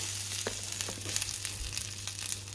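Bagar tempering for Hyderabadi kichdee sizzling in a little oil, a close, continuous crackling fry with small pops, heard alone.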